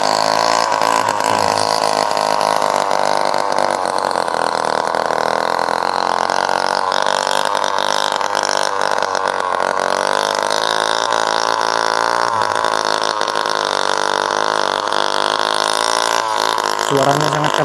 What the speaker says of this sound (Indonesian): Suaranya mesin.